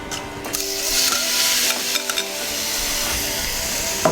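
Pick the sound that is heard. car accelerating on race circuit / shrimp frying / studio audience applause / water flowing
shrimp frying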